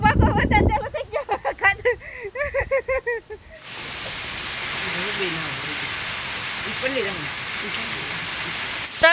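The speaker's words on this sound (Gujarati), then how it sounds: "ઓય બાપા વરસાદ ચાલુ થઈ ગયો હવે ઓહો હો વરસાદ ચાલુ થઈ ગયો ભાગો" Steady rain starts suddenly outdoors on a village farm, a broad hiss that rises abruptly and continues under excited shouting voices.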